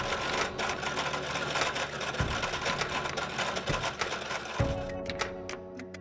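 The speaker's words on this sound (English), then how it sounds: "using the sewing machine again, make a top stitch" Sewing machine running steadily as it stitches a straight seam along fabric with a zipper, a continuous rapid mechanical whir that stops briefly twice, then ends with a few separate clicks and a quieter hum.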